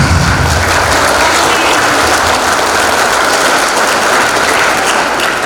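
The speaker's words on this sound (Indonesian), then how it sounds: "Tepuk tangan." A hall full of participants at a leadership training session applauds loudly and steadily, a thick unbroken wall of clapping lasting over five seconds.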